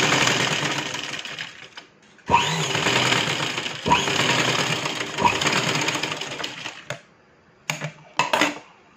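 A sewing machine stitches graduated tucks into fabric, running in steady close-up bursts that stop briefly at intervals, then ends with a few short spurts and pauses.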